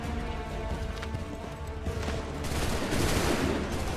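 A musket volley fired on command in Assassin's Creed 3, heard as a dense rolling crackle of many shots over a steady battlefield din, swelling louder toward the end.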